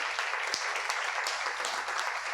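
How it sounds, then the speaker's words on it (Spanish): A church congregation claps together, a dense continuous wash of applause with scattered sharper claps, fairly close and steady throughout. "Denle un fuerte aplauso al Señor"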